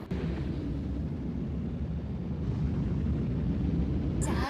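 A deep, sustained rumbling bomb blast in the video game Dragon Ball FighterZ roars loudly and evenly throughout, ending with a brief bright crackle.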